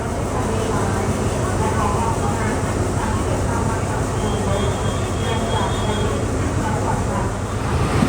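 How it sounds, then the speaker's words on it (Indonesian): An economy class train in Thailand rumbles along, a steady broadband clatter and roar heard from inside the carriage, continuous throughout with some faint background voices. "Nah, ini kereta yang dari Bangkok,"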